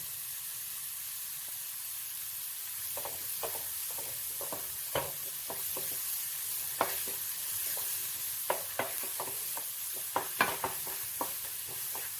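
Onions with a little salt sauté in a pan, frying steadily with a low sizzle while a spoon scrapes and taps the pan in a string of sharp, irregular clicks through the second half, close up and with no voices.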